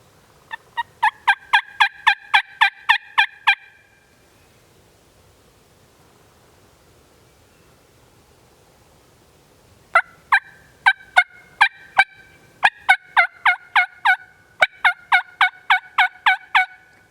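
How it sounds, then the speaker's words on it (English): A wild turkey hen yelps in quick rhythmic series, a burst at the start, then a long quiet gap, then repeated runs of yelps, fairly close and clear. "I can hear a hen though"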